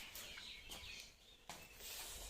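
Young chicks cheep softly in a dim shed in the evening, their faint, high, repeated peeps scattered across a quiet, distant-sounding scene.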